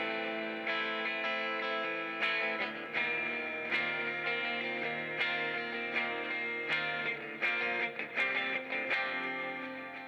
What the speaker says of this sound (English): This also sounds like a humbucker, but with a clean-ish tone.